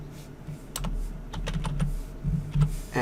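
Keys clack on a computer keyboard as a folder name is typed, a quick irregular run of close taps over a low steady hum.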